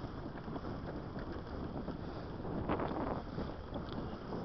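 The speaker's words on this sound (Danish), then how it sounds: "Der er edderbange med vind i sejlene." A sailboat runs fast under full sail near Bandholm, with steady, loud rushing wind and water noise buffeting the microphone throughout.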